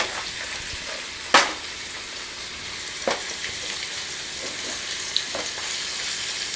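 Small nethallu fish frying in hot oil in a pan, a steady close sizzle broken by a few sharp spits and pops as pieces are dropped in.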